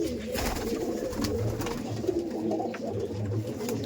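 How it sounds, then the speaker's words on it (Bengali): Madrasi pigeons coo softly in a loft, with low, repeated rolling calls overlapping near at hand. "আর এগুলো যা দেখছেন সব কিন্তু সিঙ্গেল পায়রা আছে"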